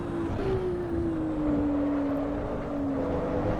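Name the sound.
carbureted racing car engine in video game Assetto Corsa EVO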